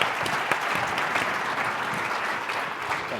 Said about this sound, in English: can we please give our panelists a round of applause as they exit the stage?